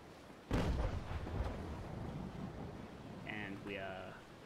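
Distant tank cannon fire in a video game battle: one heavy boom followed by a rumbling tail and a fainter second thud, with some tonal in-game sounds near the end.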